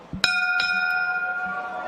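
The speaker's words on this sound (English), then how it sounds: "Glad you said that before the bell for this 6th round, Richie" A boxing bell signals the start of the sixth round at a fight night: two sharp clanging strikes in quick succession, their bright metallic ring sustaining and slowly fading, with faint crowd background.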